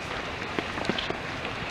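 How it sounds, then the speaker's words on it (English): Rain falls on a Dutch tent, a dense steady patter of drops on the fabric with a few louder taps standing out close by. "this time it's a dramatic difference because it's raining"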